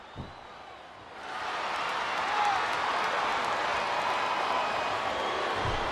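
A wrestling arena crowd in a WWE video game swells into a sustained roar of cheering and applause after a brief quieter moment, holding loud and steady to the end.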